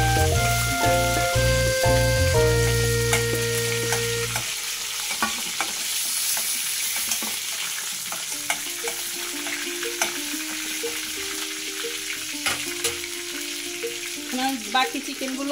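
Chicken pieces for a chicken roast fry in hot oil with a continuous close sizzle and intermittent clinks and scrapes from a spatula, over faint background tones.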